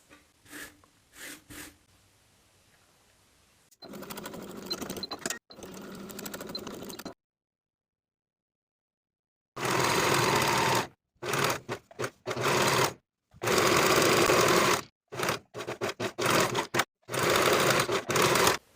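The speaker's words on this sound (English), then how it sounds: "Sew the bottom of the placket with a 5/8 inch seam allowance on both sides" A domestic sewing machine stitches a 5/8-inch seam across the bottom of a blouse placket, running in several loud bursts of rapid mechanical whirring with short pauses between runs and a stretch of near-silence.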